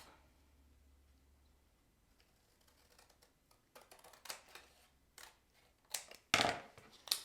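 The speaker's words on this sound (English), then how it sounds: "Now I'm using some special scissors that the glue is not supposed to stick to." A few crisp snipping sounds of scissors cutting paper scraps for card making, growing louder toward the end, with faint ticking handling noises beforehand and no talking.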